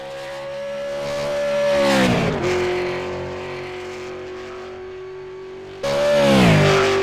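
A V8 Supercar race car engine at Bathurst, heard from onboard, holds a loud sustained high-revving drone, dips sharply as the car crests a rise, then climbs again with a sudden surge near the end.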